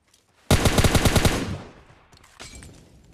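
Automatic rifle spray in the mobile battle royale game PUBG Mobile Lite: a sharp burst of rapid gunshots, about ten in quick succession, loud and close, then tailing off with a brief fainter shot later.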